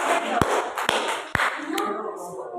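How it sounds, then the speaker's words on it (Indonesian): Students in a classroom clap for two student representatives: a short burst of applause with a few sharp, distinct claps over a steady wash of hand noise and background chatter. "Boleh dikasih semangat, aplaus biar semangat ya"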